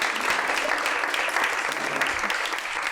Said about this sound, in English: let's give a round of applause for our moderator and our panelists